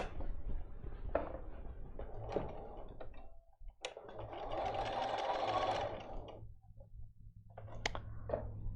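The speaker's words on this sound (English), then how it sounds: "I want to sew it from here down to here halfway" A sewing machine runs in a couple of quiet bursts, its rapid stitching whir broken by pauses, handling clicks and the fabric being shifted between passes.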